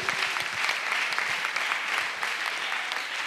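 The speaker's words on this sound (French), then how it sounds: "Acclamation." A congregation at a missionary retreat claps together, dense and sustained applause from many hands filling the room at an even level for several seconds.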